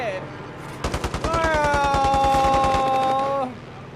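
Fast bursts of automatic fire from a Cooper Carbine crackle through a match of Call of Duty Warzone Pacific, with a voice speaking excitedly over the shooting and a rising tonal sound layered on top.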